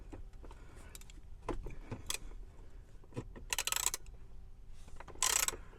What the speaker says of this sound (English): We're just going to take our 10mm and disconnect the screen.